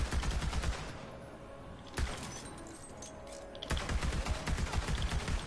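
Rapid automatic gunfire from a weapon in Borderlands 3, dense bursts of fast repeated shots that pause briefly, then resume loud and continuous.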